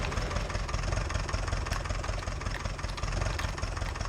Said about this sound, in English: Turn the engine off, please.